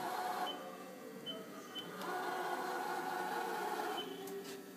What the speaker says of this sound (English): Moving the Y axis. Again, nice and quiet.